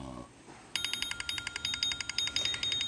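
A timer alarm beeps in a rapid, steady pulsing pattern, loud and close, repeating continuously after a brief low rumble at a home boxing match between brothers.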